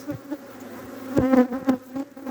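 Honeybees hum around an open hive during a spring inspection, a close, steady buzzing with individual bees droning past and a few louder passes near the middle; nobody speaks.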